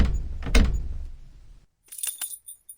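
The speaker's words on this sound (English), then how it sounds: "open now this door" A key-and-door interaction in a Unity mobile game: a heavy thud and rumble as the door swings open, then a short pause followed by light metallic jingling clicks.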